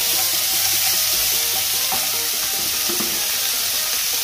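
Puffed rice uggani being stirred in a pan after salt is added, a loud, steady frying hiss up close with occasional scraping and clinks from the spoon.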